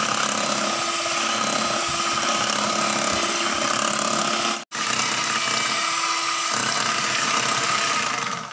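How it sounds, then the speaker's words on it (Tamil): An agar agar mixture beaten with an electric beater, a loud steady high-pitched whir that stops briefly midway, then resumes. "இப்போ நாங்கள் இது ரெண்டையுமே சேர்த்துட்டு நல்லா பீட் பண்ணிக்கொள்ள வேணும்."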